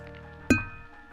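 Glasses clink together once in a toast during a livestream, a single sharp ringing chink with a short decay, followed by a faint soft sound.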